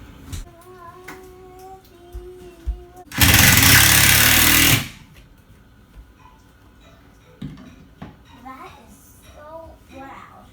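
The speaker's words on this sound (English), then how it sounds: "taking 3-inch screws, sending them through this cleat and into the studs" A drill drives 3-inch screws through a wooden cleat into wall studs in one loud, steady burst of about two seconds. Quieter handling noises and some talk come before and after it.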